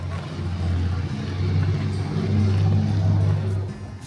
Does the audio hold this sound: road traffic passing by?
yes